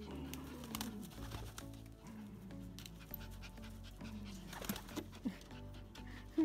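A dog on an organic farm pants and whimpers close by, with light sniffing and scuffling noises and faint bird calls in the background.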